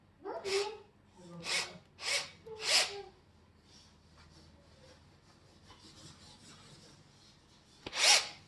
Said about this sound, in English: And we can start screwing the first 2 bolts. Make it nice and tight.